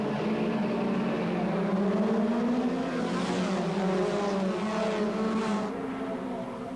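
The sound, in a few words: race car accelerating from the starting grid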